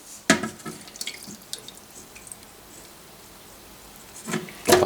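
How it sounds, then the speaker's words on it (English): Water is drained out of a cooking pot into a sink, giving brief splashes and drips at the start, a quieter trickle, then a louder gush at the end. "So I just got to drain the water out."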